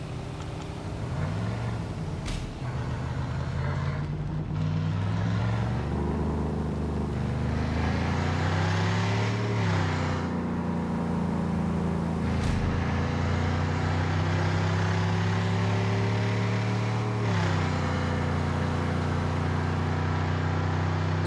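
Car engine in the game Car Parking Multiplayer 2 drones steadily while the car drives through a dark tunnel, its pitch rising and falling through gear shifts, with a few sharp knocks, continuous and close.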